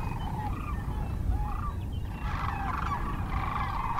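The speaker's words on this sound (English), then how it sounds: "Sandhill cranes are one of the oldest bird species in the world" Sandhill cranes calling across an open field in Nebraska, rolling bugling calls that rise and repeat over steady low wind or field rumble, moderately distant, with no talking.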